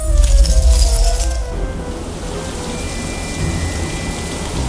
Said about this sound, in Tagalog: Umuulan na nga!